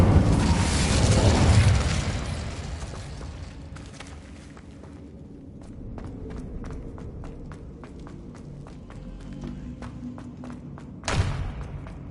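A fire spell cast in Hogwarts Legacy on PS5 bursts with a loud whooshing roar at the start, then fades into a bed of quieter crackling ticks and game ambience, with a second sharp burst near the end.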